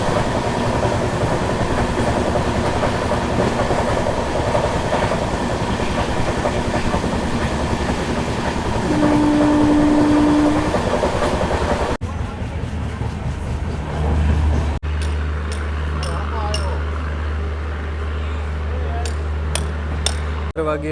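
Passenger train on the Rajkot to Kanalus line: a loud, continuous rumble of wheels on rails with a rhythmic clatter, then an abrupt shift to quieter station ambience with a low engine hum and scattered clicks.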